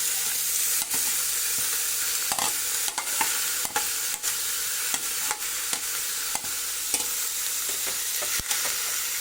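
Spices and beef stir-fry in a hot pot with a loud, continuous sizzle, punctuated by regular scraping strokes of a utensil against the pot.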